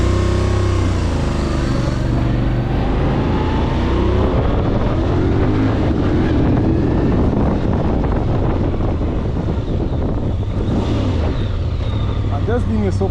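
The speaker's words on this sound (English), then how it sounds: "That sound of the 270-degree crankshaft" A Voge DSX 625 motorcycle with a 270-degree crankshaft being ridden on the road, its engine rumble mixed with heavy wind buffeting on the microphone, with a rider talking over it.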